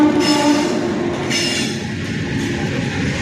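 A very long goods train runs along a broad-gauge electrified railway line between Yelahanka and Chikkaballapur, heard close with a steady rolling rumble, faint wheel squeals and rattling wagons, loud and continuous with no speech.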